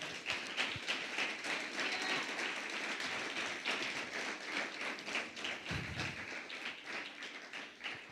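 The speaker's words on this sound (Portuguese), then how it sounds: "Dá uma salva de palmas para Jesus aí." A church congregation applauds together, a dense steady patter of clapping hands sustained throughout at moderate distance, with a few heavier thumps mixed in and no clear speech.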